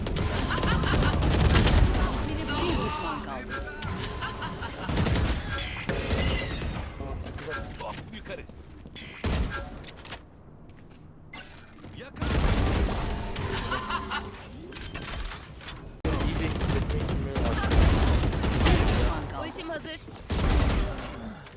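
Weapon gunfire in the Valorant video game during a ranked match, loud bursts of shots in dense clusters across the clip, with a quieter lull midway and people talking and laughing over it.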